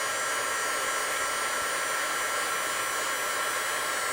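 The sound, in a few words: heat gun blowing hot air to heat metal for powder coating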